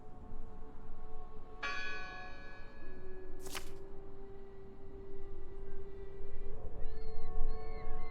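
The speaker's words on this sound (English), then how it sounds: "Listen! The bell! They're still in there!" A church bell rings in the horror video game Draugen, with a few resonant, clanging strikes whose long metallic tones hang and overlap against a quiet, murky ambient background.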